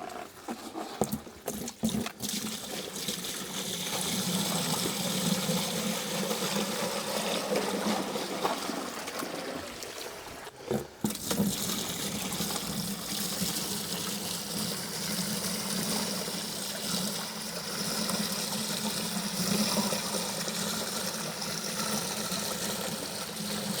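Water swirls and trickles in a gold pan during panning at a goldfield campsite, a continuous close sloshing wash with a few sharp knocks and a brief break midway, with no talking.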